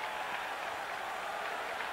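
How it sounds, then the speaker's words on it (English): A football stadium crowd at a 1997 Miami vs Virginia Tech college game cheers in a steady, dense roar that holds evenly loud throughout, with no talk over it. "this crowd trying to get into the football game"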